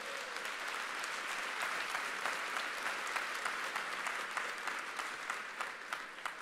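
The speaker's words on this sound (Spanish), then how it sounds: "Den un aplauso fuerte al Señor." A church congregation claps together in a steady, even stream of applause that fills the room at moderate volume and holds constant from start to finish, with no voices on top.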